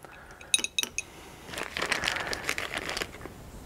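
Bag of winch bearings for a WARN 8274 winch rebuild being handled, giving a few light metallic clinks followed by soft plastic crinkling and rustling, quiet and close.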